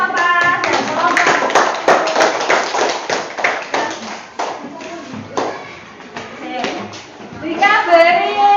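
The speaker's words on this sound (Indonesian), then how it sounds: "Beri tepuk tangan untuk kelompok 4 dan kelompok." A school class applauds for student groups, a burst of many hands clapping in quick irregular patter close by, mixed with children's voices and chatter that grow louder toward the end.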